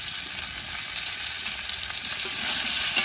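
Pointed gourd slices frying in oil in a home kitchen, giving a steady, even sizzle with faint crackles throughout, close and moderately loud, no voices.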